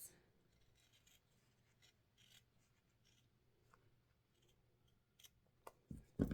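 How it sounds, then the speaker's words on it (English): Quiet, scattered snips and soft rustling of scissor blades moving through fabric for a sewing project, with a louder scrape and handling noise near the end. "we're gonna go with what I do best, which is use the scissors"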